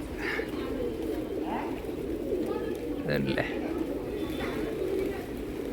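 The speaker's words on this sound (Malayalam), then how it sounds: "ഓ പ്രാവുകളെല്ലാം പറക്കുന്നുണ്ട്" Pigeons at Pashupatinath Temple in Kathmandu coo softly in the background amid a steady outdoor crowd hum, while someone speaks nearby.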